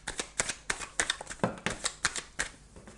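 Tarot cards are shuffled close up in quick, rhythmic riffles and soft slaps, about a dozen crisp bursts over a few seconds with no talk.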